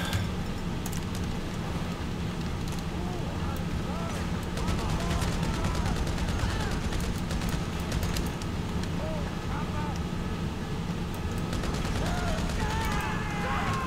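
Gunfire aimed at soldiers in the video game GTA Online, a steady barrage of shots and distant blasts under dense game noise, with someone talking throughout.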